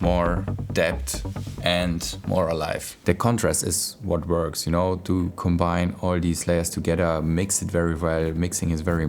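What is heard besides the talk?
No distinct noise like a dog, phone or traffic.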